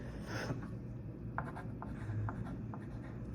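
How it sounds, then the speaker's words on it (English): Pen or pencil writing a single word on a paper vocabulary sheet, close and soft, a few short scratchy strokes over a steady low room hum. "So you can write verb there."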